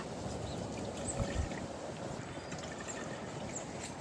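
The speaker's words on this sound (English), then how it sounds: "First thing we're gonna be adding is gonna be 2 cups of apple cider vinegar." Two cups of apple cider vinegar pour steadily into a pot on a hot stove burner, giving a continuous, fairly soft splashing gush that runs without talk.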